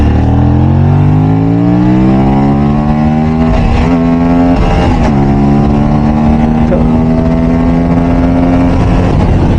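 Loud motorcycle engine, a Royal Enfield GT650 or Aprilia 457, revving up past 5,000 RPM with a rising, strained drone, gear shifts breaking the climb, heard close with wind rush.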